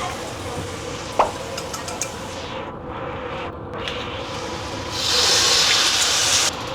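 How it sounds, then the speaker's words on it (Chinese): Pork belly being stir-fried in caramel in a wok, a steady close sizzle with scraping stirs, then a sharper, louder hiss as cooking wine is poured in near the end. "就这样翻炒一下子，先让整个肉就是沾满这个焦糖色，倒料酒"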